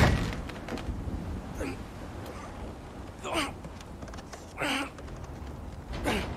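A frozen door in God of War Ragnarok is strained open, giving several separate creaking, grinding groans, close and moderately loud, each lasting about a second over a low background.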